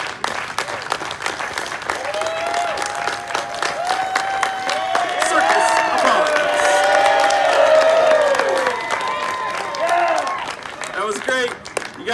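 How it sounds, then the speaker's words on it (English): Crowd at the Scarborough Renaissance Festival applauds and cheers after a windy fire juggling show, dense clapping swelling mid-way with whoops, while a performer talks over it. "Guys, that was a really nice round of applause you just gave me there."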